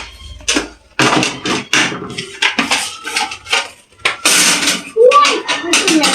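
Ceramic plates being stacked and handled while serving food in a home kitchen, with repeated sharp clinks and clatters of dishes and utensils in uneven bursts, close by, alongside voices talking.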